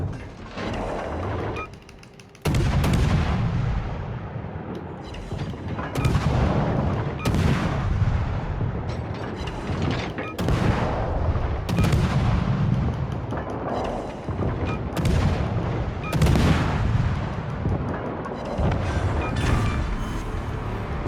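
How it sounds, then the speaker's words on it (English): Heavy naval gunfire aimed at the Colorado battleship in a video game: repeated deep, booming cannon blasts over a dense rumble, loud and close, with no talking. "Everybody's shooting the Colorado now because it's the last one."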